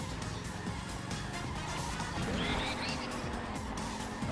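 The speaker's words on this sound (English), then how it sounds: "let's get another purple drift" Karts skid and drift in Mario Kart 8 Deluxe under a continuous bed of engine and game music, with a rising tire squeal near the middle of the clip.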